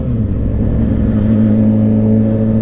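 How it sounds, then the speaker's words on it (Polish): A Suzuki GSX-R motorcycle engine runs steadily at close range, producing a loud, even idle hum with a smooth low rumble and no voices over it. "To jak ten silnik chodzi."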